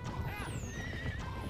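A horse gallops in The Legend of Zelda: Twilight Princess, its hoofbeats pounding close and fast under a sharp neigh and high game tones in a brief burst.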